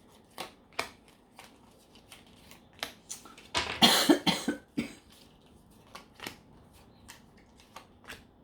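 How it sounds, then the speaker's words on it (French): Tarot cards are shuffled and drawn, giving crisp flicking snaps at irregular intervals with a dense riffling burst in the middle, close and fairly clear. "Je vais tirer les cartes"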